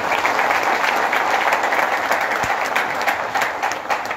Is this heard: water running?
no